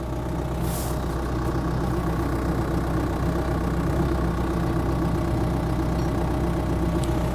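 A backhoe loader's engine idles steadily at close range, a constant low rumble with an even, unchanging drone and no voices.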